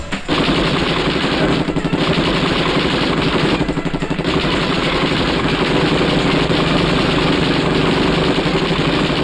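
Sustained automatic gunfire from an action film scene, dense rapid bursts rattling continuously and loudly throughout with brief dips, layered over a low engine-like rumble and no talking.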